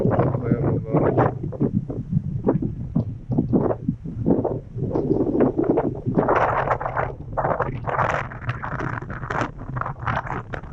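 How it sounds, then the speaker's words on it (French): Strong wind buffets the microphone on a clifftop in Hokkaido, loud irregular gusts and rumbling bursts throughout, with people talking in the background. "Il y a beaucoup de vent."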